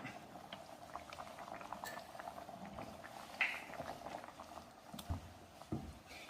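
A cashew gravy with a spoonful of vinegar simmers at a boil, giving faint, low bubbling and popping with an occasional light clink of a utensil, quiet and close, with no voices.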